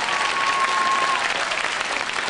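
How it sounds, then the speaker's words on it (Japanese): Dense audience applause and cheering fill an ice rink after a junior figure skating long program, a steady broadband roar with one whistle early on, loud and sustained throughout. "大きな拍手、歓声です。"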